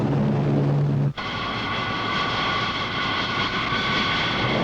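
A military E-2C Hawkeye early-warning aircraft's engines roar in a loud, steady drone with a sustained whine, continuous and close after a brief dip near the start.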